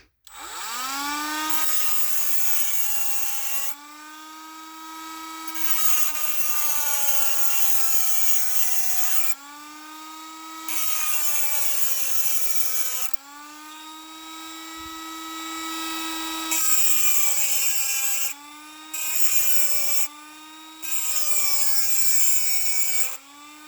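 A grinder cuts the cap off an LS truck fuel injector with a loud, high-pitched rotary whine. It comes in about seven sustained bursts, each separated by brief pauses, with the pitch dipping and rising as the tool loads against the metal. No one speaks.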